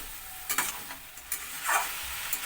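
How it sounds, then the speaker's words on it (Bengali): Raw jackfruit and shrimp sautéing in a pan for a Bengali-style curry, with a soft steady sizzle broken by several sharp spatula scrapes and stirring clatters close by, no voices. "আমি ভালো করে কষিয়ে নেব কষিয়ে নেওয়ার জন্য এটাকে ঢাকা দিয়ে দিয়ে কষাতে হবে"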